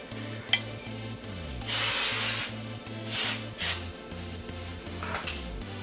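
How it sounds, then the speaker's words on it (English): TRESemmé Stronghold holding hairspray hisses from an aerosol can in several short bursts of about half a second each, close to the microphone, over a repeating low tonal background beat. "I'm using my Tresemme Stronghold with Touchable Feel Holding Spray"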